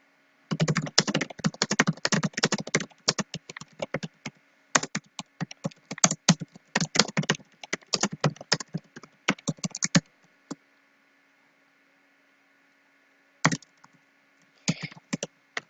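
Keys on a computer keyboard clatter in quick bursts of close, crisp typing, broken by pauses and a few isolated taps near the end, with no talking.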